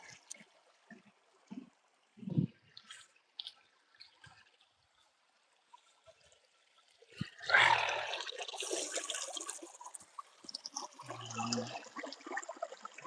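Cold water flows in a stream on a hillside in the Scottish Borders, a faint trickle at first with scattered footsteps, then a nearer, louder gurgling rush that keeps going.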